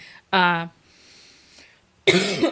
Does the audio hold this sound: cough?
yes